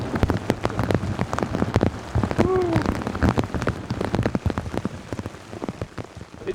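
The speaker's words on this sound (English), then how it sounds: "Rain and downpour, we can tough it out." Heavy rain pours steadily onto a hard surface outdoors during a fast-moving thunderstorm, a dense continuous patter with sharp individual drop hits, fairly close and loud throughout.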